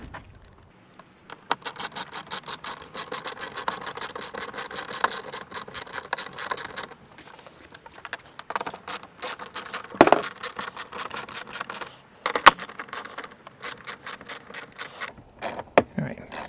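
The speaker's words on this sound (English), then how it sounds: "we're just going to ratchet these guys in." A hand ratchet turns spoiler bolts on a Chevrolet Sonic sedan, giving long runs of quick, even clicking that pause and resume, with a few louder knocks and scrapes in between.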